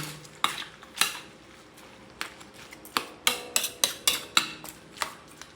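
A spoon stirs a metal pot of pork bopis with water and salt, producing a series of sharp clinks and scrapes, irregular at first, then quicker and more regular toward the end.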